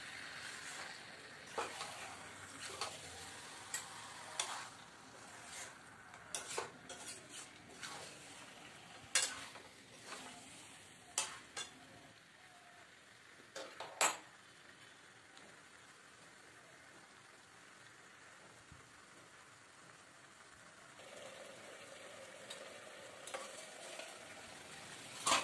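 Spiced meat is stirred as it fries in a pan, giving a faint low sizzle with scattered sharp scrapes and knocks from the spoon at irregular intervals.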